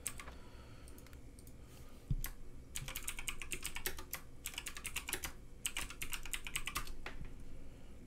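Keystrokes on a computer keyboard clatter in quick bursts, dense runs of clicks broken by short pauses, close and fairly quiet over a low background hum.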